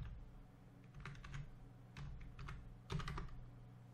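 Keys tapped on a computer keyboard while an IP address is entered into a WinSCP connection login, a quiet, close run of irregular clicks in a few short bursts with pauses between them.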